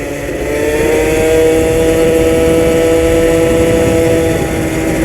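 A Magnum Racing XR moped rides along with its small engine droning loud and close in a steady whine, and the pitch holds fairly even with slight rises over the few seconds.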